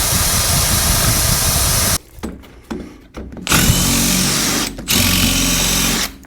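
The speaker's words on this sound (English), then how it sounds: "I'm going to try drilling through the bolt and then see if I can extract it." A power drill bores through a seized bolt on a car's brake wheel cylinder, part of a brake repair on a Rabbit. The loud whine comes in several bursts separated by short pauses, with no talk.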